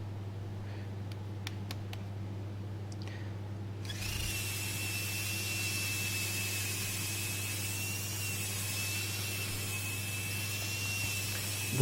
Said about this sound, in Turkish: Değişik bir zımparayla bir de deneme yapalım